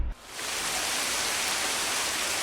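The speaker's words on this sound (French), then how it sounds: "Je crois qu'il va pleuvoir." Rain begins with a brief low thud and then settles into a steady, dense hiss that stays even and fairly loud to the end, with no voices.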